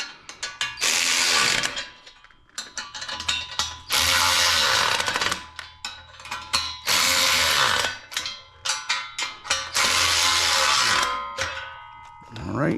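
A ratchet wrench tightens an 11/16 nut and bolt on a shop press in a garage, in close, loud bursts of rapid clicking separated by short pauses.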